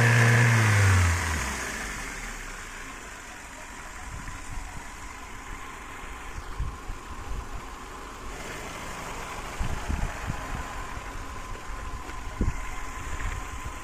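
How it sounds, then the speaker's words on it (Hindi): A Chevrolet Beat petrol engine with an ECM fault and check engine light on starts with a loud low burst, then idles quietly with faint intermittent revving blips. "इंजन के साउंड भी सुन सकते हो दोस्तों आप कुछ इस प्रकार से।"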